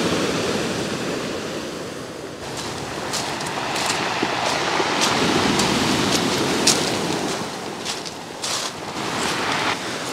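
Rough sea surf after a storm at Alushta in Crimea, a continuous roaring wash of breaking waves with hissing spray and gusting wind on the microphone, swelling and receding in loudness.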